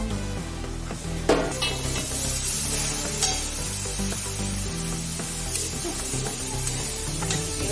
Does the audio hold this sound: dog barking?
no